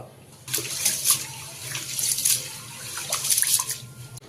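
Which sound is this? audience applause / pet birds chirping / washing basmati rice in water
washing basmati rice in water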